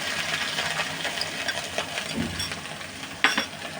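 Garlic and ground cumin paste frying in oil for a green mango pickle, a steady close sizzle with a short clatter of utensil on pan near the end.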